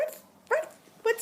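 An Eclectus parrot voices two short dog-like barks or yips, imitating a dog, close and clear with quiet pauses between.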